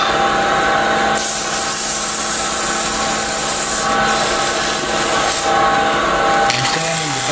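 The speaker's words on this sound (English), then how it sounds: "I'm sanding the back and the sides." Sandpaper rubs across the back and sides of a turned bocote wood pendant in a continuous, loud, close-up scratchy hiss with slight shifts in stroke.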